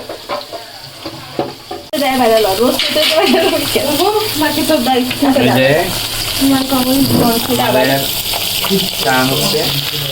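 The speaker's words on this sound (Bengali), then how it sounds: "আমাদের রুই মাছ ভাজা হচ্ছে" Rohu fish fries in a pan with a strong, steady sizzle that picks up sharply after a brief quieter start, while people talk over it nearby.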